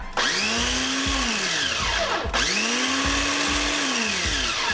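A food processor pulses a batch of hummus in two bursts, each a loud motor whine that rises, holds steady, then drops off, with a brief gap between them and no talking.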